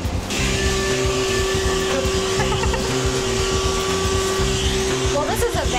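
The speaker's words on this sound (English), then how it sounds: "this is a vacuum, so it sucks off all the extra hair" A vacuum used to suck loose extra hair off a dog's coat during grooming after a bath, running as a loud, continuous whine with a rumbling motor drone throughout.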